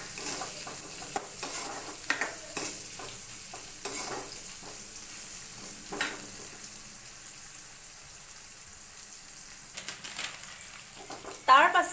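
Green chilli and spices are stirred in a frying pan for a fish curry, giving a steady low sizzle under repeated scraping strokes, with a sharper burst of frying near the end and no talk.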